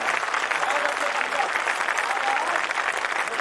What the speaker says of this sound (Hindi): एक बार जोरदार तालियां दोनों हाथ उठा के